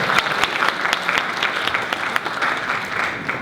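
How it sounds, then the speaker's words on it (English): Audience at a sports club talk event breaks into steady applause, a dense, even stream of many hands clapping at moderate loudness with a few sharper individual claps standing out. "Big round of applause."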